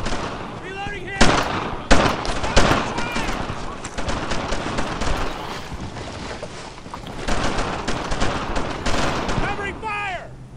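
Rapid rifle and machine-gun bursts from the World War II shooter Brothers in Arms: Earned in Blood crack in repeated loud volleys, with shouted squad commands mixed in throughout.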